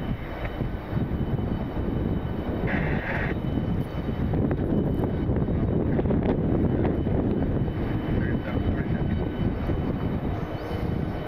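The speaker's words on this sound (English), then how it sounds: "Here's the A350 heading out, the Delta 275 heading to Tokyo" A Delta Airbus A350 in Spirit livery departs Detroit Metro Airport bound for Tokyo, a steady distant jet rumble mixed with wind buffeting on the microphone throughout.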